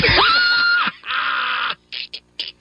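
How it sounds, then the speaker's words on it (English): A person screams loudly in a live radio studio, one long rising and falling wail followed by a second strained cry and several short yelping bursts, with no speech. "That scream you just heard"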